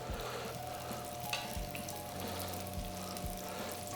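Small pieces of pizza dough fry in hot oil with a steady close crackle and sizzle. A few low knocks and stirring sounds break in now and then, and no voices are heard.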